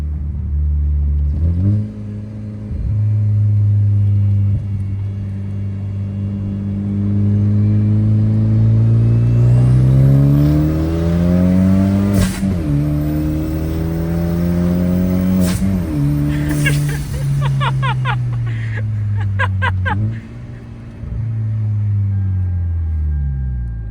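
Hyundai Genesis Coupe after an engine swap, driven hard with the engine revving up and down through several shifts, loud and close with a rising, falling growl throughout.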